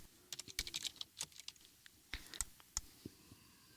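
Typing on a computer keyboard makes a quick, uneven run of sharp, close key clicks in bursts with short pauses, without talk.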